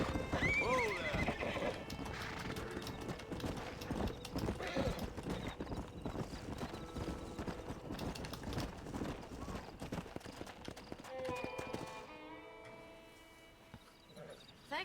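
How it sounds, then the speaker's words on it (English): Horses in the Red Dead Redemption video game clip-clopping in quick, busy hoofbeats with loud whinnies and neighs up close, the activity thinning out toward the end. "We got some fine horses."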